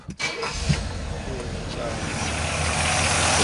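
An old GM Grand Prix engine, about 50 years old, cranks briefly and then catches, settling into a steady low rumbling idle that holds close and fairly loud to the end.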